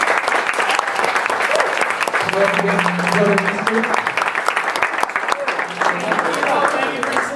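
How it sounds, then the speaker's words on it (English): A room full of people applauds the speakers at a church leadership meeting, a sustained round of clapping with a brief spoken thanks and a low tone heard partway through. "You guys, if we can give them one applause."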